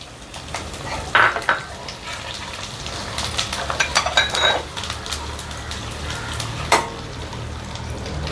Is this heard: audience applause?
no